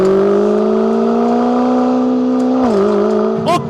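A Lamborghini hybrid supercar in sport mode accelerates with a loud, smooth engine note climbing steadily, dips briefly as if shifting, then revs sharply again near the end.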